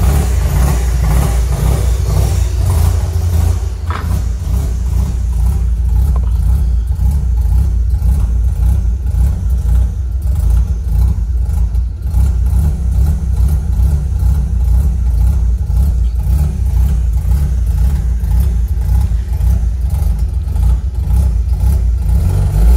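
A Mazda RX-8 rotary engine idles low and steady, a continuous nearby mechanical drone with a slight rhythmic pulse, running alone without voices for the whole stretch.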